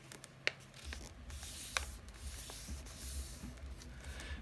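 Paper is folded over by hand into a pocket flap, giving soft continuous rubbing and rustling with two sharp crinkle snaps early on, quiet and close.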